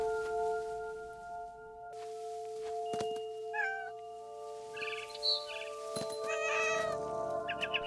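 Cat meowing in the video game What Remains of Edith Finch: a few short meows and a drawn-out caterwaul over a steady tonal game hum, with a thunk and faint bird chirps near the end.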